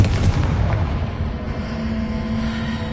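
A Confringo fire spell blast in Hogwarts Legacy on PS5 erupts as a single loud, booming burst with a sustained rumbling tail that lingers for a few seconds, with no talking.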